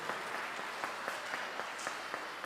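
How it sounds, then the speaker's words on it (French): Light, sparse clapping from a small congregation at a Christmas Mass for youth and children in a church, a thin patter of individual claps over a couple of seconds. "On l'applaudit, s'il vous plaît, à Adèle."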